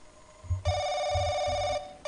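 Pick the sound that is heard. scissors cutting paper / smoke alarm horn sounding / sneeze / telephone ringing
telephone ringing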